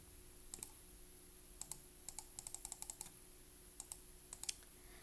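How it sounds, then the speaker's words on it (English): Keys pressed on a graphing calculator while an equation is typed in, soft quick clicks in irregular bursts over a faint steady hum, with no talking. "If I were to type this equation into my y equals button, like this"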